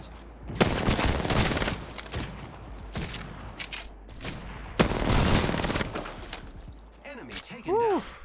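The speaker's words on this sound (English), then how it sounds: "The last three shots were with my longbow." Longbow sniper shots in the video game Apex Legends: several loud, sharp gunshot blasts in quick succession with ringing tails, close and punchy, with game sound effects around them.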